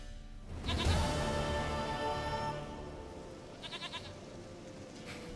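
A goat bleats once loudly and close in the video game Witcher 3, a long wavering cry, followed by a fainter, shorter bleat a few seconds later over soft ambient background.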